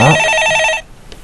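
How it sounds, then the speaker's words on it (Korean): A telephone rings loudly on a Korean stock market call-in show, one rapid trilling electronic ring that stops abruptly, followed by near silence. "전화 받아보겠습니다"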